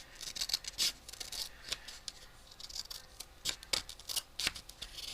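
Scissors snip through magazine paper in a quick run of crisp, close cuts, several sharp bursts spaced unevenly over a few seconds, with no voices.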